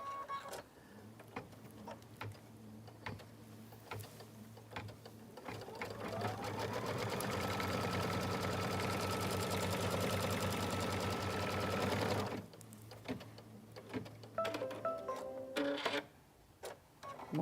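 A home embroidery machine stitches a Kimberbell design, its needle hammering in a fast, steady mechanical rhythm that swells louder through the middle and then stops, with lighter clicks and movements before and after.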